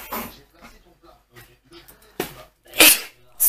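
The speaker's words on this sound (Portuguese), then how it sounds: "Espirrei." A single sharp human sneeze near the end, loud and close, following soft breathing and faint rustling noises.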